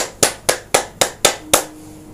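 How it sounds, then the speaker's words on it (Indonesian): Six sharp hand claps in a steady, evenly spaced rhythm, loud and close, ringing out alone with no talking. "tepuk tangan"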